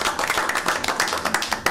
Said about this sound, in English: give a round of applause to our audiovisual team back there